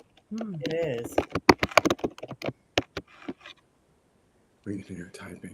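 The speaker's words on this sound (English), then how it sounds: "We can hear typing." Rapid irregular clicks of typing on a computer keyboard, close and fairly loud, come in a burst between stretches of conversation, with people talking before and after the keystrokes.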